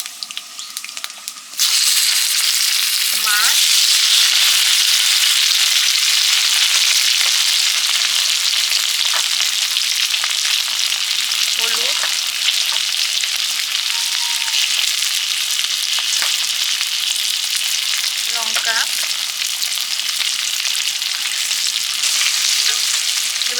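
A dried red chilli tempering in mustard oil in a wok, a loud, close, constant sizzling hiss that bursts in suddenly and holds steady with faint crackles.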